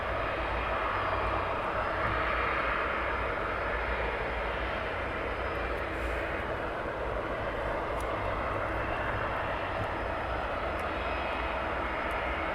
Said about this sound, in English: My 757 getting ready for taxi